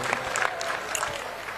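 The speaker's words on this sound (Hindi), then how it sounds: "जोरदार ताली बजा करके स्वागत करो।" An audience claps loudly to welcome a guest onto the stage at a religious gathering of saints and devotees, a dense, steady burst of applause from a crowd that fills the short moment.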